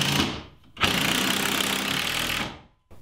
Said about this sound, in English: I want to get a couple of screws into this.